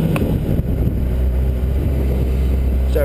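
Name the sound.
Honda CBR600RR motorcycle engine while riding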